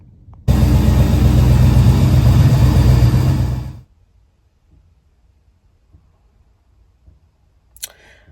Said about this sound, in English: we got the rear end back together in the Camaro, so let's fire this thing up and take it for a spin